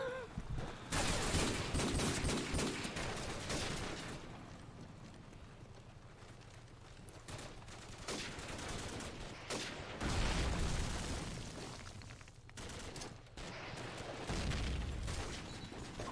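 Heavy gunfire from a Call of Duty 4 / Modern Warfare 2 match on PS3: dense bursts of shots and explosions that swell and fade over several seconds, loud and close, with no voices.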